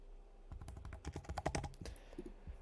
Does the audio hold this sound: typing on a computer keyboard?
yes